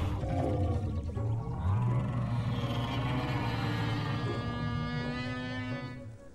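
A dinosaur broadcast call from the game Path of Titans: a long, deep, whale-like moaning roar with sustained tonal layers that swell and slowly fade, loud and alone with no talking.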